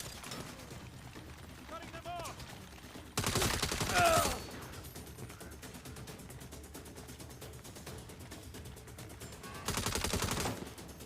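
Gunfire in the Saints Row video game, two dense bursts of rapid shots, one short and one longer, standing out loudly over quieter game sounds.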